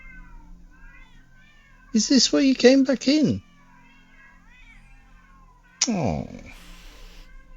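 Cats meowing in The Excavation of Hob's Barrow video game, a few drawn-out mews at close range in two short bursts, the second softer and trailing off, with a brief spoken line over quiet ambient background.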